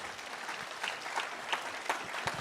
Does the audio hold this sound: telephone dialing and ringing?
no